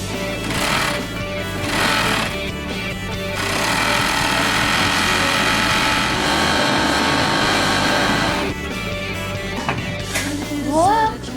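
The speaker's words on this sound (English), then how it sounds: "I'm going to serge my edges together because I'm using the 5-thread serger" A five-thread serger sews fabric edges for a gathered skirt at high speed with a loud, rapid mechanical whir and clatter, pausing briefly and starting again, with a few faint squeaks near the end.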